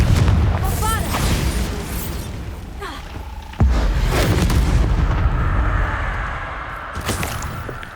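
A Bombarda blast spell in Hogwarts Legacy lands as a heavy booming explosion midway, preceded by crackling magical casting effects and followed by a lingering rumble, while a voice speaks spell names over the game sound.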